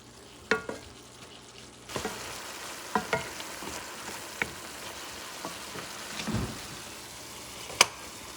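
Ground beef for Puerto Rican arroz con carne molida fries in a pan with a continuous sizzle, broken by several sharp spoon scrapes and taps against the pan, no talking.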